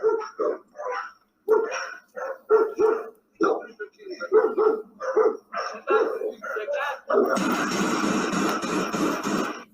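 An 8-month-old dog barks repeatedly during a police encounter, with close, sharp barks in an irregular run, some yelps among them, followed by a burst of loud rushing noise at the end.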